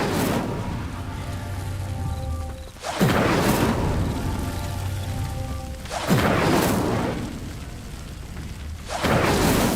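Bursts of magic from casting the Incendio fire spell in the video game Hogwarts Legacy: three loud, broad whooshing blasts at regular intervals, each flaring suddenly and then fading into a rumbling roar.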